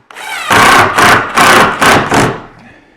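A longer screw is driven into a wooden table leg during a repair, heard as four loud, close grinding pulses in quick succession before fading out.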